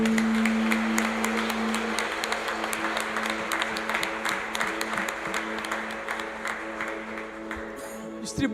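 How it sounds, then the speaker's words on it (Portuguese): A church congregation applauds steadily during a worship service, the clapping dense and continuous over a sustained musical tone, tapering slightly toward the end. "dê um aplauso ao Senhor"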